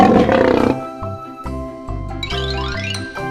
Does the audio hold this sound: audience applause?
no